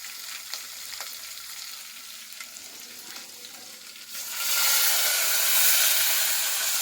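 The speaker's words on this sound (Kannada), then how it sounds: "ನೋಡಿ ಹೆಂಗೆ ಚಟ್ಪಟ್ ಸೌಂಡ್ ಹೆಂಗೆ ಬರ್ತದೆ ಮಸ್ತಾಗಿ" Garlic tempering in a pan for a sambar: a light crackle at first, then a loud, steady close-up sizzle and sputter bursts in and fills the rest, with no talk.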